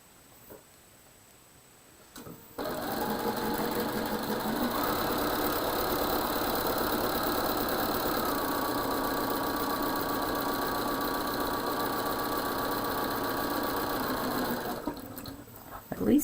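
A sewing machine stitches quilt pieces in one long, continuous run of fast, even stitching lasting around twelve seconds, close and steady, starting and stopping sharply with a little handling noise before it.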